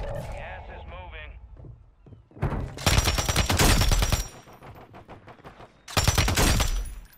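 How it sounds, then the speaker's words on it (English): Bursts of large machine gun fire in Warzone Resurgence, loud sustained rattling in two separate volleys, with a voice speaking briefly before the first burst. "Can't kill somebody with a large machine gun."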